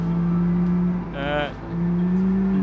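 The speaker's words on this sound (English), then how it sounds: "Come on, full throttle." 2000 delivery van in BeamNG driven at full throttle, a loud steady droning engine note that holds through the clip, briefly dipping midway while a voice cuts in over it.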